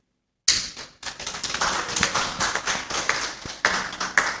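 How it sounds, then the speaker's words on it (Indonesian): Clapping from a church congregation at a Sunday anniversary service, beginning abruptly after a short silence, a moderately sized group of hands clapping with uneven rhythm and some louder individual claps. "Mari kita iringi dengan tepuk tangan yang meriah."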